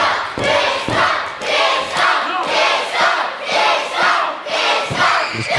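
Wrestling event crowd roaring with shouts and cheers at a live indoor show, a dense, loud wall of voices swelling in repeated waves throughout.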